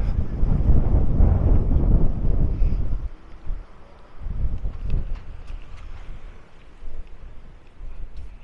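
Strong wind buffets the microphone on the beach at Maspalomas, Gran Canaria, a loud continuous roar that eases after a few seconds and then returns in weaker gusts.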